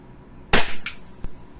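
Umarex Glock 17 Gen 5 airsoft pistol fires one sharp, close crack followed by a quick mechanical snap, then a faint click about half a second later.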